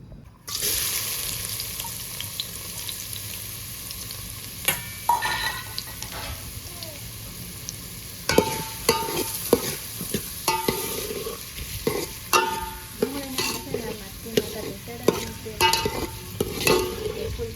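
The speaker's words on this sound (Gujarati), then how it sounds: "આપણું તેલ ગરમ થઈ ગયું છે તો એમાં નાખી દઈએ ડુંગળી" Onion dropped into hot oil for an egg khima makes a sudden loud sizzle that continues steadily, with frequent metallic stirring clatters and scrapes later on.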